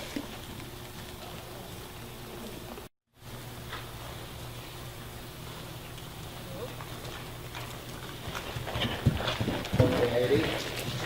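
A horse moves around an arena during a riding lesson, its hoofbeats building into louder, uneven clip-clops toward the end, mixed with scattered voices in the background.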